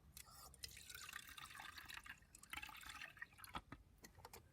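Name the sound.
water being poured back into a pot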